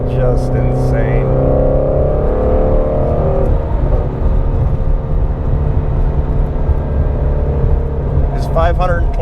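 2016 Ford Mustang Shelby GT350 engine heard from inside the cabin, a deep steady rumbling drone with a rise in pitch early on, with a voice speaking briefly over it.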